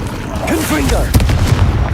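A Confringo blasting spell from Hogwarts Legacy goes off as a single deep boom partway through, with a voice speaking just before it and game sounds continuing after.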